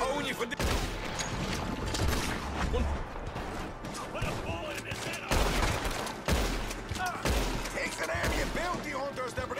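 Rapid gunfire in Red Dead Redemption 2 cracks out in repeated volleys and bursts, mixed with shouting voices and a clattering battle din.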